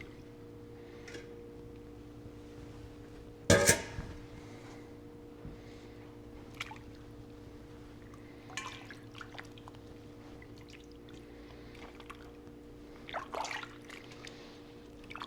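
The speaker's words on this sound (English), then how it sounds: "Once you rinse it pretty good, we'll transfer it over to a new bowl with clean water" Homemade butter is rinsed in a bowl of water with faint, scattered sloshes and drips, one louder splash early on, over a low steady hum.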